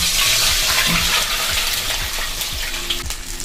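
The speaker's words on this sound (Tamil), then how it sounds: "இப்போ அரைச்சி வச்ச அந்த தண்ணியவே நம்ம எடுத்து வச்சுருக்குறோம், அதை ஃபஸ்ட்டாக நம்ம ஆட் பண்ணிக்கலாம்." Ground masala water is poured into a hot pan of mutton kofta gravy, giving a steady loud sizzling, bubbling wash with some stirring clatter throughout and no voices.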